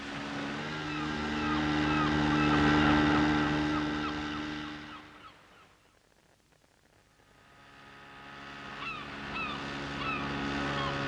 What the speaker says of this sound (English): Gosh, listen to those birds.